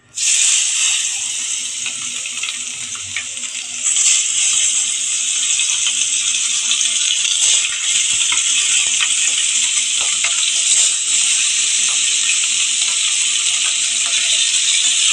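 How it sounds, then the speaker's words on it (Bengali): Bogo fish fry in hot oil in a wok, giving a loud, steady, close-up sizzle that holds unbroken throughout, with occasional light crackles and no talk. "তেল দিয়ে দিয়েছি কড়াটা গরমও হয়ে গেছে আমি কিন্তু এক এক করে মাছগুলো ছেড়ে দিচ্ছি"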